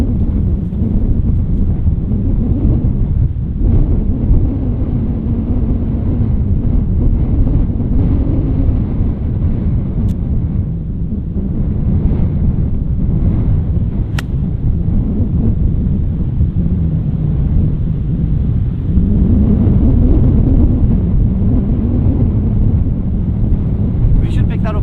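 Strong wind buffets the microphone on a seaside golf course at Royal Portrush, a constant low rumbling roar that swells and eases for the whole stretch.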